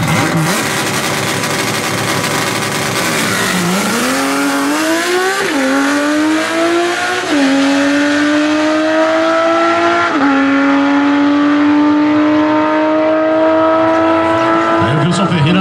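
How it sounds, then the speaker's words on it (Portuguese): An Opala STT race car accelerates hard down a drag strip, its engine roaring loud and close with rising pitch across several gear shifts, each shift marked by a brief dip before the climb resumes. "Aí o Vilson Ferreira andando na casa dos 10 segundos, é tempo"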